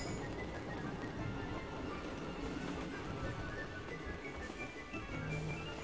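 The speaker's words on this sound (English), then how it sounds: "Release train number two!" A train car released in the Sega Saturn game Vandal Hearts, heard as a steady, loud, dense rumble with rattling that fills the whole stretch without pause and with no voices over it.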